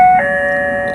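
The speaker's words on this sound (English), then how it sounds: "They have a doorbell on here as well." A short electronic chime rings from an IBLOG smart deadbolt lock's doorbell, a clear two-tone beep that sustains and slowly fades, loud and close.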